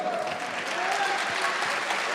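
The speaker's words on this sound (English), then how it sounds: "It's what brings the applause" Audience applause, dense continuous clapping from a crowd at a steady level, with voices faintly mixed in.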